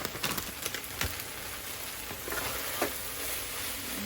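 Cheese being stirred through a taco puff filling, with soft, wet crackling and a few light scrapes at close range.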